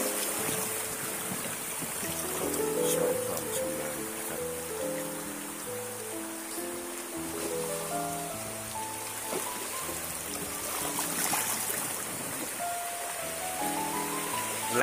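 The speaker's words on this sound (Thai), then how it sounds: "น้ำไหลเชี่ยว" Swiftly flowing water of a long, clear rapid over rocks in a stream, a steady close rushing and trickling wash that holds constant with no talk, while a tonal rising-and-falling melody of musical notes sits beneath it.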